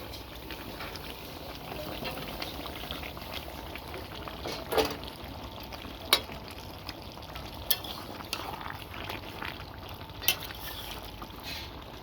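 Chicken and potatoes sizzle softly in a pot for chicken curry, a low continuous frying hiss broken by occasional sharp clinks of a spoon stirring against the pot.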